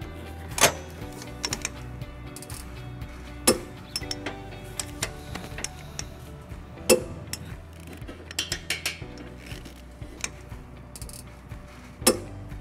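Torque wrench tightening U-bolts during a trailer hitch install on a 2015 Honda Fit, giving sharp clicks and metallic ratcheting at an irregular pace, with a few louder clicks standing out, close and fairly quiet with no talking.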